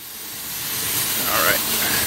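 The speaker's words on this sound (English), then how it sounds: "So I've got my leaky air gun here. It's just the fitting, that's all." Leaky fitting on an air gun used for Ford F-250 wheel stud work, a steady broad hiss rising slightly in loudness, close by.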